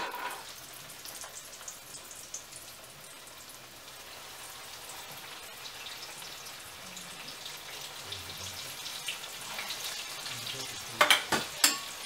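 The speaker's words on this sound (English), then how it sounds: "our oil is good and hot, so we're going to go ahead and put our catfish in" Catfish pieces frying in hot oil, a steady crackling sizzle close by that runs throughout, with a few sharper pops and spatters near the end and no talking.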